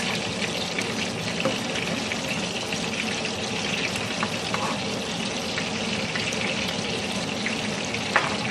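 Meatballs fry and brown in a pan over medium heat, a dense, steady sizzle of hot oil filling the whole stretch at close range with no talking.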